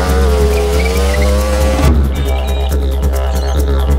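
A race car engine roars loud and close with whining tones and tire squeal, then shifts into a rising, rougher drive-away roar as the car pulls off.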